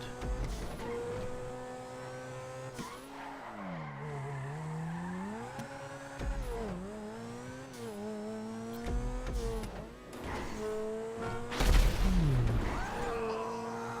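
A car in the GTA video game drives through a city, its engine revving up and down with shifting pitch, occasional tire squeals and a sharp skid near the end, all fairly close with no talking.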